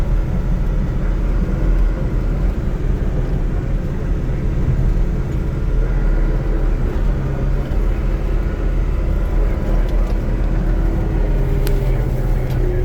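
A skid steer engine runs steadily while plowing snow out of a lot, a loud continuous low rumble and drone that holds close and even throughout, with no talking.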